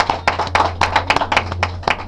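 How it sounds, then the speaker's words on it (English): A small group claps during a Sunday school gathering, distinct sharp individual hand claps in an uneven rhythm, close and moderately loud over a low hum. "Give it to a second round of applause."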